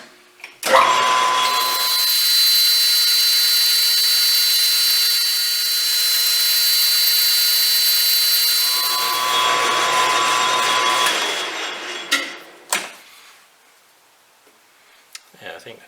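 A power tool whines steadily while polishing a steam engine crank pin in a small machine shop, holding a constant tone for several seconds before winding down, followed by a few faint clicks and handling knocks.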